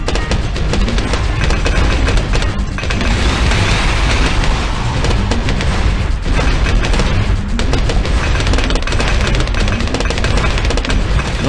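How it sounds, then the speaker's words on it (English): Cluster barrages from a MOAB Decimator tower in Bloons TD Battles burst in a dense, continuous barrage of loud booms and crackling blasts, layered over game music with no pauses for the whole stretch. "you can definitely feel the cluster barrages as ZOMGs approached further"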